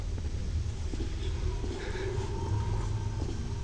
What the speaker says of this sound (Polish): To wiatr, tylko wiatr.